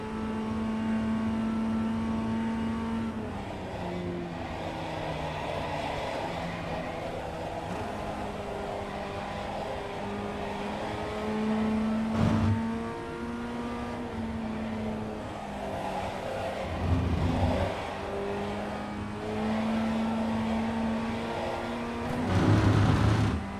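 Ray FF1600 Formula Ford race car at full speed in iRacing at Lime Rock Park, its engine droning steadily and rising and falling in pitch through gear changes and corners, close and continuous without voices.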